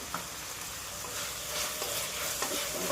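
Vegetables and tomato stirred in a pan while cooking vegetable upma with salt, giving a steady close scraping and soft sizzle throughout, with no voices.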